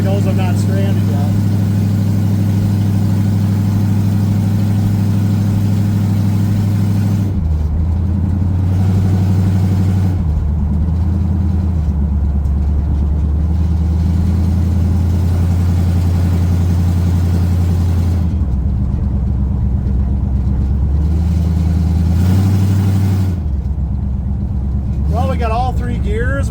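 A 1979 Pontiac Trans Am with no cooling fan runs loud and close while driving, a deep steady engine drone that shifts pitch as it accelerates and lets off, heard from inside the car.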